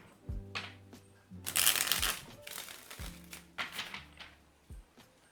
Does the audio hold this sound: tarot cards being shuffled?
yes